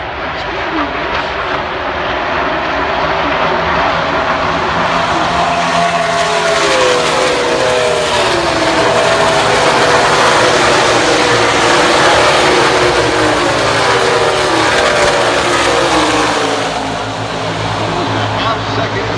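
NASCAR stock cars racing at the Brickyard 400 at Indianapolis, a loud sustained engine roar of a pack passing close and sweeping by, with a commentator talking over it.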